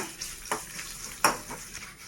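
Urad dal, chana dal, mustard seeds and cumin seeds frying in oil, a soft continuous sizzle broken by a few brief scraping stirs of the pan, no voices.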